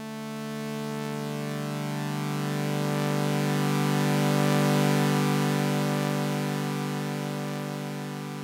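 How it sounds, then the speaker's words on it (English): Sawtooth wave synth from Ableton Live's Wavetable instrument, a dense buzzy sustained chord held for several seconds, swelling slightly louder toward the middle, with no other sounds. "You could, of course, set this to a sawtooth wave,"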